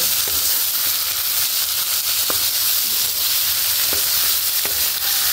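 Mixed vegetables stir-fried in a pan, a constant loud sizzle with occasional clinks and scrapes of stirring, close up and steady throughout.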